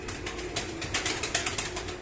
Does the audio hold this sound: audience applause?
no